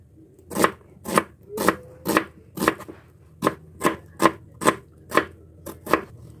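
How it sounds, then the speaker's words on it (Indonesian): A large onion being thinly sliced with a knife on a board, giving about a dozen crisp, evenly spaced chops, close and clear, with one brief pause midway. "Di sini aku potong tipis-tipis ya, guys. Satu buah bawang besar."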